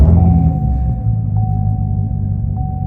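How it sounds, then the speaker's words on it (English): A car engine idles with a low, steady rumble close by, dropping slightly in level after the first half second and then holding a constant hum with a faint tonal whine on top. "I need to turn this car on for a little bit."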